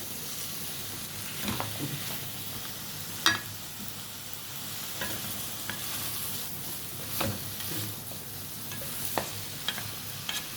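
Egyptian okra stewing with tomatoes and garlic cloves is stirred in a pot, giving a soft continuous sizzle with scattered scraping stir strokes and a few sharper clinks, close and fairly quiet, with no talking.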